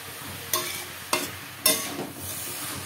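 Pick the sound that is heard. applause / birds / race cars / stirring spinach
stirring spinach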